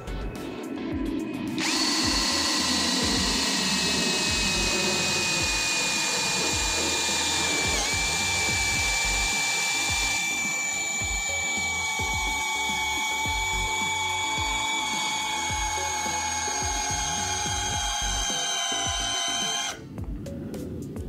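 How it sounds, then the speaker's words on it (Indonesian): A Kenjiro 21V cordless brushless drill in high-speed drilling mode bores into mahogany wood, spinning up with a steady high whine for about eighteen seconds before cutting off abruptly. "Di sini saya mengebor menggunakan kecepatan high ya, yang nomor 2, yang paling kencang"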